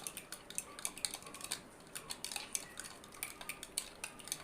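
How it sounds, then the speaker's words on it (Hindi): A homemade hair pack with a spoonful of coconut oil is stirred in a bowl with a spoon, giving quick, repeated light clinks and scrapes against the bowl, close and fairly quiet, with no talking. "डाल के फिर इसको अच्छी तरह से मिक्स कर लेंगे।"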